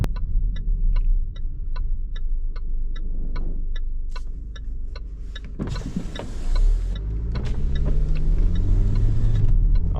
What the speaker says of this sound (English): Extremely loud blinker noise as well.